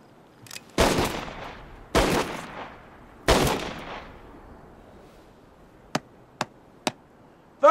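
Three loud, sharp gunshots ring out about a second apart, each with a decaying echo, followed by several short, quieter cracks in quick succession.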